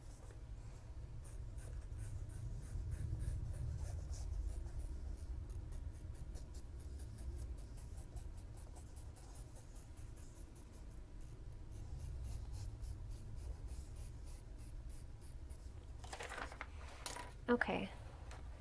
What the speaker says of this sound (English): I'm going to draw the other half